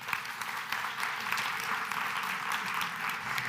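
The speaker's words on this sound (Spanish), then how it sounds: "Un aplauso para Rocío" Audience at a business conference applauding a speaker, steady rapid clapping from a large crowd held for a few seconds, fairly distant and without talk.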